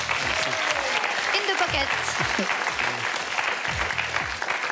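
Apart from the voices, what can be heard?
studio audience applause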